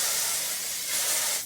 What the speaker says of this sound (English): Lightly spray a little bit of that